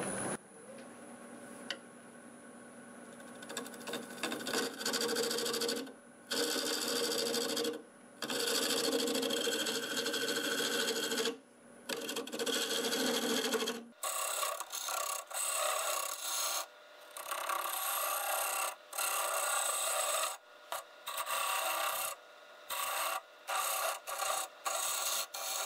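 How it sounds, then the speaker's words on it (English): Small carbide hollowing tool cutting a segmented wood bowl on a lathe spinning at about 800 RPM, giving a steady raspy scraping in repeated passes broken by short pauses, loud and close throughout. "I'm going to go ahead and use this small carbide hollowing tool just to clean that up."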